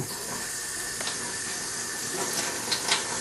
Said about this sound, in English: So what we're going to do is keep the water running just a little bit.